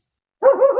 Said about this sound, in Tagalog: Uy, may aso pala.